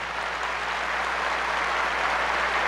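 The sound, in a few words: audience applauding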